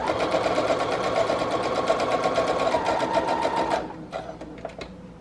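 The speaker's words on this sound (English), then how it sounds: "I'm going to start by sewing one big line all the way around the entire" A sewing machine stitches a line around a patchwork fabric journal cover, whirring in a fast, steady close-up run for about four seconds before stopping, followed by a few faint clicks.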